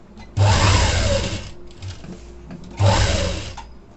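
Sewing machine stitching a folded bias piece onto a blouse back neck: two loud, close bursts of steady motor whirr, a quieter run between them, with no talk.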